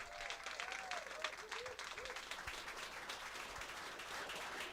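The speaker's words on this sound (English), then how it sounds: "we would like to request a round of applause for everyone who came out to support this" Spectators at a World Poker Tour final table in New Zealand give sustained applause, with cheering voices and chatter mixed into the steady clapping.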